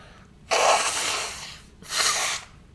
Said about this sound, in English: Probably just see me blow my nose.